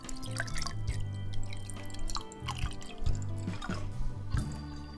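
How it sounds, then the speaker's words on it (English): Water glugs and drips in uneven bursts, close and fairly quiet, with low tonal hums in the background. "Let's get that nice gurgly sound for you."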